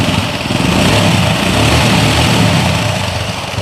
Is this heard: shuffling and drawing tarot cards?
no